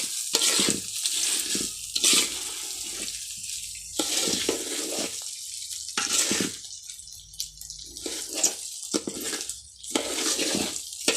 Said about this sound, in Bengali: পোলাও চালগুলো ভাজবো।